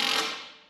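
Small Milwaukee impact gun on its lowest speed setting tightening a bolt on a BMW 328xi E92, a short loud mechanical burst that fades out within a second.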